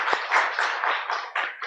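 A church congregation at an early-morning Advent prayer service applauds in a broad, steady wash of clapping that surges in several waves over a short span, with no voices over it.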